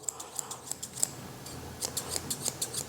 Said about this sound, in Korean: 숟가위가 이런 식으로 주변 털과 맞춰서